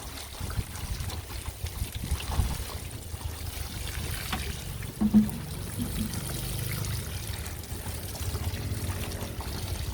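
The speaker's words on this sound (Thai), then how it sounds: "กลับมารดน้ำกันค่ะทุกคน ใส่ปุ๋ยเสร็จทุกครั้งต้องรดน้ำนะคะ" Water is poured over potted tomato plants just fed with fertilizer, producing a steady, soft trickle and splash that runs continuously for several seconds at moderate distance, with no talking.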